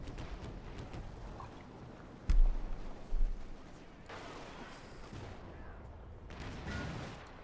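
Gunfire in a Company of Heroes 2 battle, faint and distant, with a couple of sharp louder bursts over a low rumbling wartime background.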